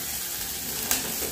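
Onion fries in a pan for a chicken pie filling, giving a steady close sizzle with one brief stir or scrape.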